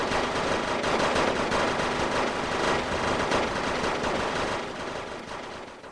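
Dense, continuous rapid-fire gunfire from the Wargame AirLand Battle video game, Mausers against AK-74s, crackling loud and steady without pause for several seconds and easing slightly at the end.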